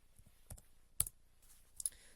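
A computer keyboard is typed on in a short, sparse run of a few crisp, close key clicks separated by brief pauses.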